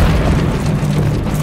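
Heavy gunship cannon rounds pound enemy barracks in Call of Duty Modern Warfare 3, a continuous low rumbling roar of explosions, loud and dense with no clear gaps.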